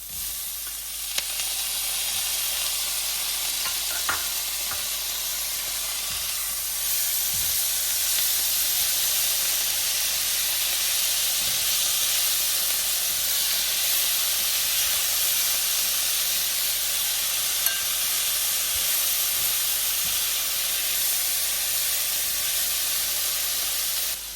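Tomatoes sizzle in a hot pan with spices, a steady, loud frying hiss that runs throughout with a few faint clicks of stirring underneath.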